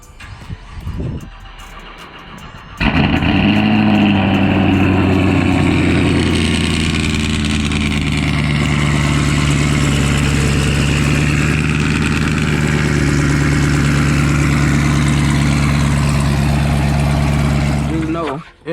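A 2021 Chevrolet Camaro SS engine cranks and fires after a few quiet seconds of faint background noise, then settles into a steady, loud, deep idle that runs unbroken until a sudden cutoff.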